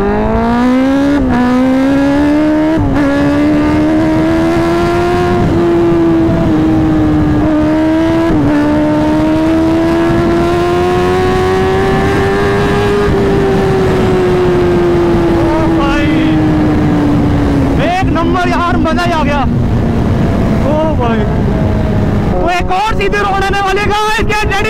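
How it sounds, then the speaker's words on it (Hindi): A Kawasaki ZX10R superbike accelerates hard along a straight road, its loud engine note rising steadily through a long pull with brief gear-change dips, while a rider talks over the roar. "अब ना बहुत सीधी रोड है और यहाँ पर बाइक रॉकेट बनाऊंगा"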